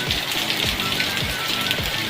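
Heavy rain pours down in a continuous loud hiss, with a few low thumps recurring every half second or so.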